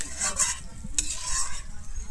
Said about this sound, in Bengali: আমি ডিমটা দিয়ে কিন্তু খুব ভালোভাবে মিশিয়ে নেব।